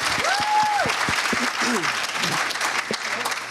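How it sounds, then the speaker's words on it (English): A live audience applauds a young volunteer named Olivia at a talk on childhood trauma, with steady dense clapping under a speaking voice throughout. "Can we give Olivia a round of applause for volunteering?"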